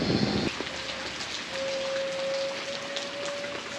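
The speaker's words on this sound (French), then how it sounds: "On est au début de la saison des pluies, donc il pleut de temps en temps." Steady rain falls outdoors in Brazil at the start of the rainy season, a soft even hiss with a faint sustained tone running through it and no talking.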